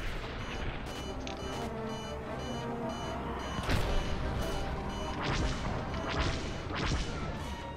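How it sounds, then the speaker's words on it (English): Missiles and blasters fire in the Star Wars Squadrons space combat game, with a string of sharp cracks and whooshing bursts over a dense engine and battle roar and a few short voice calls. "Fire missiles."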